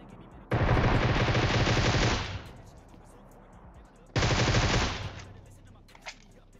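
Automatic gunfire from a squad fight in the video game PUBG Mobile: two long, loud rapid-fire bursts separated by a brief quiet gap, then a single faint shot.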